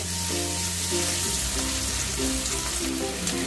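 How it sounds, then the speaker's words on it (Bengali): Bitter gourd pieces fry in hot oil with a steady, fairly quiet sizzle and crackle, joined by a low background hum and light stirring sounds. "উচ্ছেগুলোকে আমি ভালো করে একটু ভেজে নেব"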